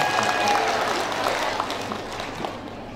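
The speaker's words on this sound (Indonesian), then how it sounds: "tepuk tangan dulu buat ibu semua" An audience at a community charity handover event claps, a dense patter of hands that starts full and gradually thins out, with faint murmuring in the background.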